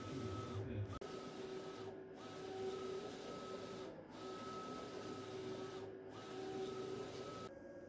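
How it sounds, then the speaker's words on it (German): A vinyl cutting plotter draws in sticker foil and cuts holes and circles for a homemade arcade cabinet. Its motor whirs steadily and close by, with short pauses about every two seconds as the feed changes direction. "Hier sieht man jetzt, wie der Plotter die Folie wieder einzieht, damit er die einzelnen Löcher und Kreise ausschneiden kann."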